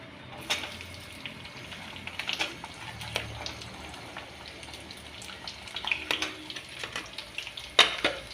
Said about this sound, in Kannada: ಉಳ್ಳಾಗಡ್ಡಿ ಹಾಕಿದ್ರೆ ಚೆನ್ನಾಗಿ ಫ್ರೈ ಮಾಡ್ಬೇಕ್ರಿ